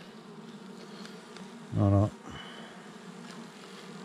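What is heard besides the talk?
bees buzzing around a hive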